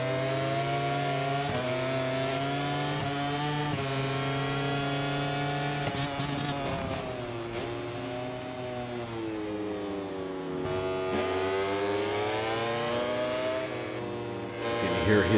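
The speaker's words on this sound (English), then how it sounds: "Hear his engine roaring behind us." A motorcycle engine in the game MotoGP 24 roars continuously during a race, its pitch climbing and dropping through gear changes, loud and steady throughout.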